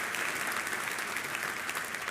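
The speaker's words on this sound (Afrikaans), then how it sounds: "ons kan klap daarvoor" Steady applause from a church congregation, dense and continuous clapping filling the whole moment at a moderate distance, with no voices standing out above it.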